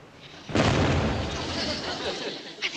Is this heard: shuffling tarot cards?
no